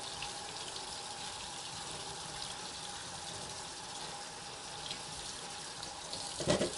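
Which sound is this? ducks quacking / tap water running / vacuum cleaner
tap water running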